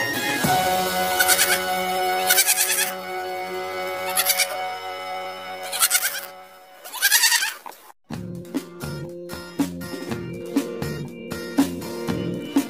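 A young goat kid bleats several times in wavering, nasal calls, loud and close, and a bright rhythmic tune follows the bleats.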